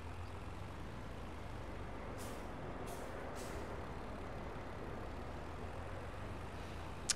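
A truck driving in Farming Simulator 22, a steady low engine drone throughout with several short hissing air-brake bursts near the middle.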